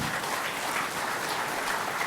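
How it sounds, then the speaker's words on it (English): Audience at a RISC-V symposium applauding finalists, a dense, steady wash of clapping from many hands across the hall, continuous and evenly loud throughout. "a round of applause for this finalist"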